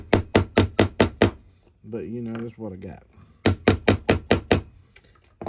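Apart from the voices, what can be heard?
tapping a roll pin in with a hammer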